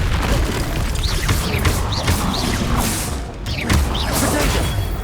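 A Confringo fire spell blasting in the Hogwarts Legacy video game, loud booming explosions and crashes in quick succession over a dense game soundscape with whooshing magic effects.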